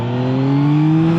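Close, loud engine of a 2025 Yamaha MT-09 SP with its three-cylinder CP3 motor, rising steadily in pitch as the bike accelerates through the mid-range, heard alone without talk.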